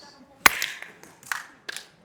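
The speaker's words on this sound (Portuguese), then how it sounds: "Uma salva de palmas de uma palma para Henrique. Uma palma." A lecture audience claps once in unison for Henrique, one sharp loud burst of hands followed by a few scattered, lighter claps trailing off in the room.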